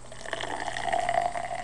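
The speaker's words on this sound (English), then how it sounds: "I'm going to pour it in my Dollar General glass." Grape Amp Boost energy drink pours from the can into a Dollar General glass, a close, steady gurgling fill whose pitch rises as the glass fills, with no talking.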